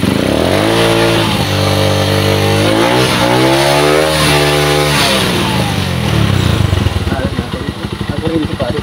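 A Skygo motorcycle engine revs hard after a primary-type repair, its pitch climbing and falling in repeated loud, close bursts before dropping to a rough, popping idle.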